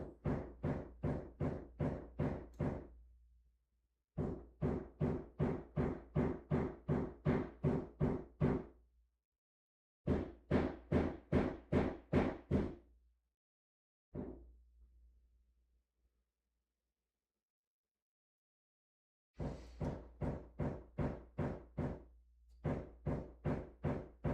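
Rapid bursts of knocking from construction work in a neighbouring apartment, several long runs of evenly spaced hard taps with short pauses between, muffled through the wall and steady in loudness, no voices.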